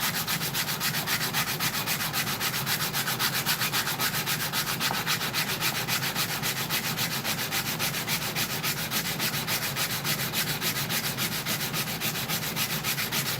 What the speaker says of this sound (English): Trusty sanding block with some 80 grit on it.